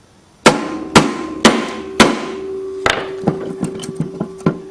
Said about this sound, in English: Now I hit it here and the flywheel should jump off.